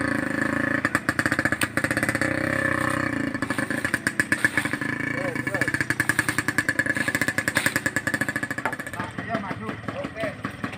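A Suzuki Satria F.U motorcycle with a loud aftermarket exhaust idles and revs nearby, a rough rapid popping engine note that rises and stutters, with people talking over it.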